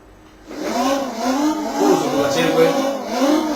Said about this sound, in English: I'm racing modified bikes